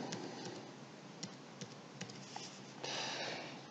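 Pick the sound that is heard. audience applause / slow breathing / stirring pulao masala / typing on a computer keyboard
typing on a computer keyboard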